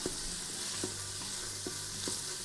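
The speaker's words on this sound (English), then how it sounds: "these things are getting sauteed up pretty good here" Steady sizzling of beef sautéing in a hot Instant Pot, with a few soft stirring scrapes, continuous and close.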